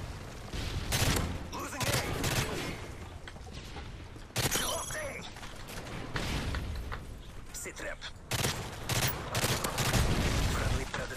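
M16 rifle fire in Modern Warfare 3 multiplayer, rapid bursts of gunshots that keep going throughout alongside explosions and game effects, with players talking over the action.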